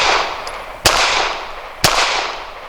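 Two sharp, loud gunshots from a Walther CCP 9mm pistol loaded with Remington Ultimate Defense ammunition, about one second apart, each cracking out and trailing into a long fading outdoor echo over steady background noise.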